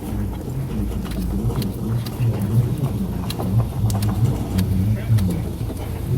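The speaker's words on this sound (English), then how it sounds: "Hopefully the noise of the van in the background is not too much." A van engine idles steadily in the background during work on a Ford Fiesta Titanium MK7 brake job, a low continuous rumble under a voice.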